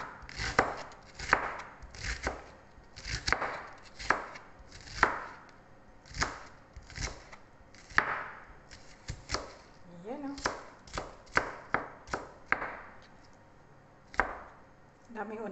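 A knife chops onion on a cutting board in a series of crisp, close thuds, irregular and quick, with a brief bit of faint talking partway through.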